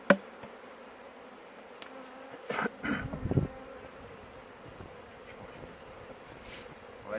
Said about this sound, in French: Donc les abeilles vont redescendre.